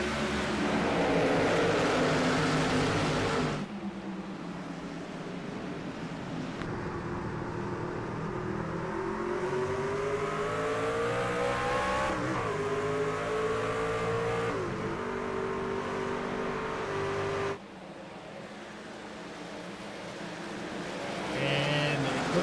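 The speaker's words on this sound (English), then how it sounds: "The iRacing safety car making the right-hand turn for the second time today." Race trucks in an iRacing video game at Watkins Glen roar continuously, engines rising and falling in pitch through shifts and passes, loud and steady across the whole stretch with brief cuts between shots.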